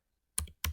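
Two quick keystrokes on a computer keyboard, close and quiet, separated by a short gap in an otherwise silent room.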